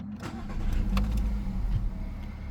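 A Volkswagen Golf 5 with a 1.6 petrol engine and 262,000 km on the odometer starts up: a brief cranking catch settles into a steady, fairly loud idle with no talking.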